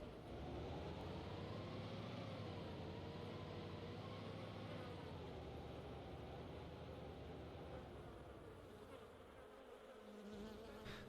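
A car in the video game DayZ drives away, heard as a steady droning engine hum with a wavering pitch that slowly fades, held at a moderate level throughout with no speech.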